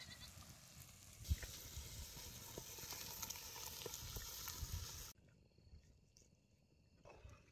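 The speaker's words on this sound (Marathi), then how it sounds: "आता हे सौदा मटणात ओततो." Hot oil tempering poured into mutton curry, giving a steady loud sizzle for about five seconds that then drops away abruptly to quiet, with an animal bleat faintly audible in an outdoor setting.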